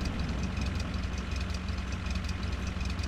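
A bus engine fitted to a sled in The Long Drive runs with a heavy, rough, continuous drone, knocking steadily and loud up close with no pauses.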